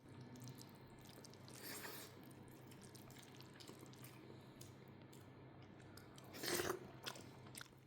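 Someone eats a traditional Kerala meal of rice mixed by hand with buttermilk, chutney, dal and spinach curry. Soft, close chewing and wet mashing continue quietly throughout, with one louder bite near the end.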